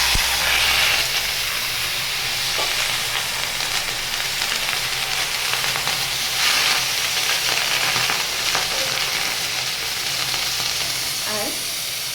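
Carrot, cabbage, potato and greens frying together for a vegetable bhaji, a steady loud sizzle and hiss with occasional stirring scrapes, continuous throughout.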